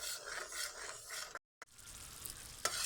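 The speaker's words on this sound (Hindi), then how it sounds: "प्याज को फ्राई करते हुए 5 से 6 मिनट हो चुके हैं" Onion paste frying in a pan for chicken makhani, a steady close sizzle with scraping stirs, broken by a brief gap of silence midway before the frying and stirring resume.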